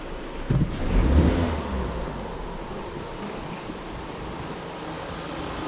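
An Opel Zafira 1.6 engine with a damaged oil separator membrane under the valve cover revs as the throttle is pressed: a brief swell of roar near the start, then a steady, broad rumble close to the microphone.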